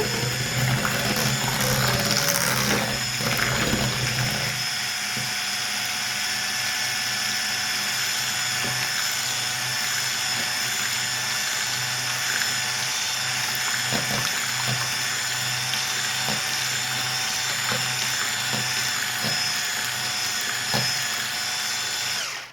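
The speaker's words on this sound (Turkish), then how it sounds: "böyle bembeyaz olana kadar çırpmamız gerekiyor." An electric mixer whirs continuously and loudly, whisking birthday cake mixture until it turns white, a steady mechanical drone with a small shift in tone early on and no voices.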